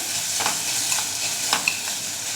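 Onions fry in a little oil with a steady, bright sizzle, and a few quick stirs scrape through at intervals. No voices.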